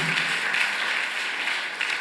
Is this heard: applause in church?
yes